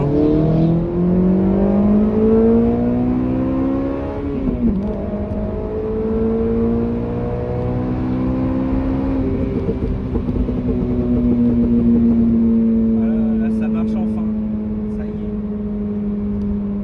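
A Honda Civic Type R engine drones loud and steady inside the moving car, its pitch climbing through the gears with a brief dip at a shift, while someone talks over it.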